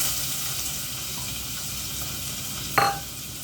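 Coconut pieces sizzle in a pan while cooking prawn theeyal, a continuous frying hiss with stirring, and one sharp brief clatter near the end, fairly close and without talk.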